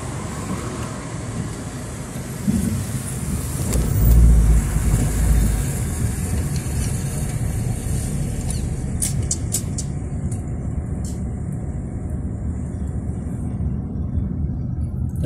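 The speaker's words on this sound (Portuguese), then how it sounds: "o fluxo de veículo aumentou" Road traffic passing a street corner near a city hall, a steady low rumble of vehicles with a louder heavy vehicle swelling past near the start, continuous and moderately distant.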